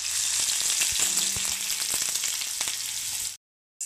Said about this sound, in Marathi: कांद्याला आता आपल्याला थोडंसं परतवून घ्यायचं आहे, हलकंसं गुलाबी रंग येईपर्यंत